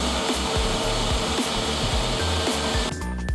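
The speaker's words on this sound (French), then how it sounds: "Et on va enfin pouvoir mixer le tout et avoir la masse de notre sorbet qui sera prête." A blender mixes a vegan strawberry sorbet mixture with icing sugar, giving a loud, continuous motor whir with a rhythmic churning pulse that cuts off just before the end.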